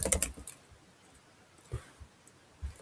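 Soft typing on a computer keyboard, a few scattered key clicks and taps at close range in a quiet room, with a brief cluster at the start and isolated strokes after.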